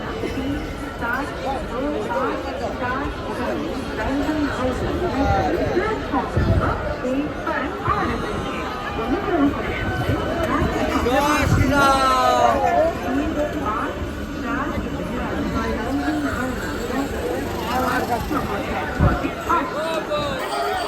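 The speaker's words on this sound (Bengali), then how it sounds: "দেখো একবার শেওড়াফুলির ভিড়টা ট্রেন ঢোকার পরে।" Dense crowd bustle on Sheoraphuli railway station platform just after a train pulls in, a busy wash of overlapping chatter and footsteps with people talking close by throughout.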